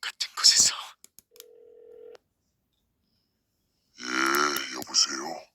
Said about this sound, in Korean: 방금 전까지 보던 블로그에 나와 있는 연락처로 전화를 걸고 있었다